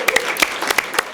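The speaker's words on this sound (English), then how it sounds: "Round of applause for the crew over here." Brief applause from a studio audience for a late-night talk show crew, a few sharp, distinct hand claps close to the microphone.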